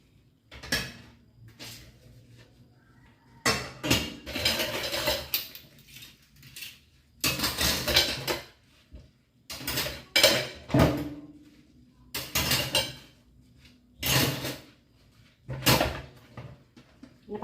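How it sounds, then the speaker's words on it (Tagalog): Plates and dishes being hand-washed in a home kitchen in the morning, with repeated bursts of clattering crockery and knocks separated by short quiet gaps, fairly close. "Basta maghugas ako ng plato."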